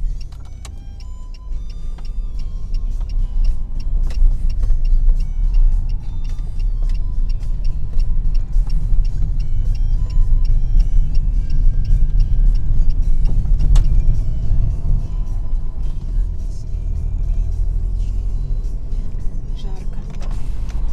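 A car drives out of Kirov toward the new bridge on a hot day, with a steady, loud engine and road rumble that continues throughout, plus a few small ticks and rattles from the cabin.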